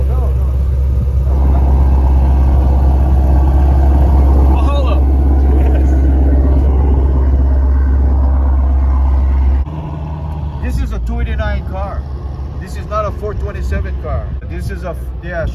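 A Cobra replica's stroked Windsor 427 V8 idles with a loud, steady low rumble, then cuts off partway through, leaving people talking nearby.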